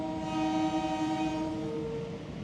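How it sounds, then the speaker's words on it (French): A train horn blares continuously on a departing train, a loud sustained multi-tone blast that holds steady for a couple of seconds before easing off, with rumbling rail noise beneath. "On vient de monter dans le train, qui va bien arrêter de klaxonner s'il vous plaît un jour."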